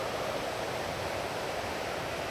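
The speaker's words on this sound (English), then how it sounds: "We've got to cross this river here." A river near the Falls of Glomach on the Cape Wrath Trail rushes steadily, a continuous close broadband roar of flowing water with no talk over it.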